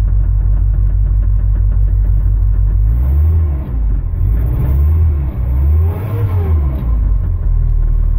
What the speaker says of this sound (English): it started up pretty good. That's pretty impressive for an old carburetor truck.